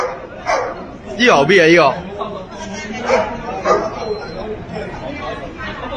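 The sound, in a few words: dog barking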